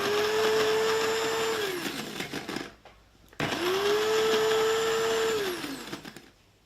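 A coffee grinder pulverizes smoked tomatoes into fine powder in two loud, steady high-pitched whirring bursts, each winding down as the motor stops, with a short pause between them.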